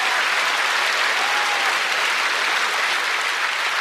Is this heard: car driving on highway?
no